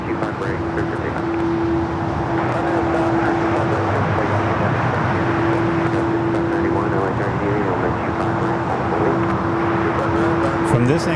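An airliner takes off from runway 25 at LAX, a steady, loud broadband roar with a sustained humming tone running through the whole stretch.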